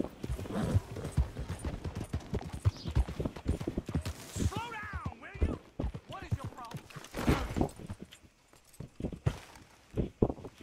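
Horse in the video game Red Dead Redemption, rapid hoofbeats clip-clopping over ground with a brief whinny in the middle, heard beneath a voice talking through much of it.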